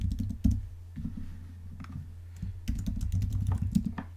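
Typing on a computer keyboard while filling in a fillable PDF, close quiet bursts of rapid key clicks with a short pause in between, no speech.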